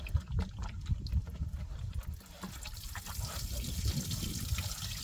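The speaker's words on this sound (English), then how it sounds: "I'm going to go ahead and pour the rest of this in here because it'll go into the block" Liquid is poured into an inboard boat engine block during winterizing, making a continuous close trickling and gurgling that runs for several seconds.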